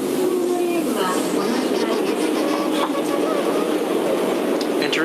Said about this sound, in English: Oh, I think the train arrived.